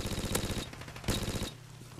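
Rapid bursts of P90 submachine gun fire in a Call of Duty: Modern Warfare Remastered multiplayer match, two dense volleys of shots separated by a brief pause, fairly loud and close.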